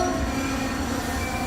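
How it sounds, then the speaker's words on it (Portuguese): A train rumbles through a quiet rural railway stretch in the interior of the Algarve, a steady close rolling noise with faint tonal lines and no voices over it. "há sempre um apito de comboio nesta pacata freguesia do interior do Algarve"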